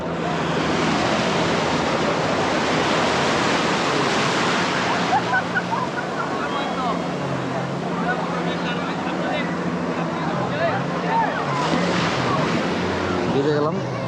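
Sea waves wash onto the beach at Cox's Bazar in a continuous broad roar of surf, rising and falling with breaking swells, loud and near, with a voice talking over it.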